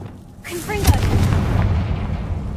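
A Confringo fire-blast curse in Hogwarts Legacy detonates in a deep, booming explosion followed by a rumbling, crackling tail, heard up close with a voice briefly present over it.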